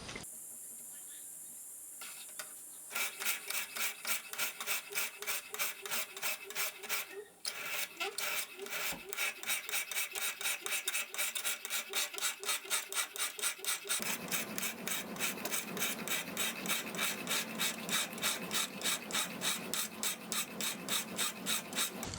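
Steady rhythmic rasping strokes of a knife blade being ground from the bevel toward the spine with basic hand tools, close and continuous, with a deeper, rougher tone in the second half.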